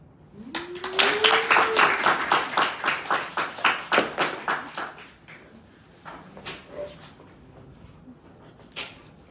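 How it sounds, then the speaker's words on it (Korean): A small group claps at a school thesis midterm presentation, a short burst of rhythmic, fairly close claps that fades out after a few seconds, followed by quiet room sounds and a few stray knocks. "박수."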